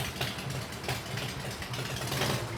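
A Harley FXR motorcycle with a free-flow exhaust idles close by with a steady low, throbbing rumble and no talking.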